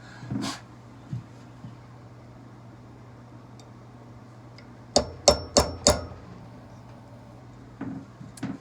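Sharp metallic hammer strikes on a punch while installing a barrel tenon on a smoothbore gun barrel: a single blow, then a quick burst of four ringing hits close by, with a few lighter taps around them.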